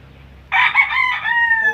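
A rooster on a small backyard farm lets out a single loud, close crow that rises sharply and trails off, with quiet rural background before it.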